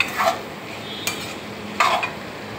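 Salt and red chili powder are stirred into ghevda beans cooking in a pan, giving a continuous soft sizzle broken by a few spoon scrapes and clinks against the metal.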